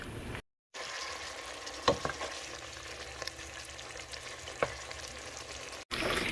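Hamburger meat cooking in a pan with the lid on, a soft, steady sizzle with a couple of faint clicks, briefly cut off near the start and again at the end.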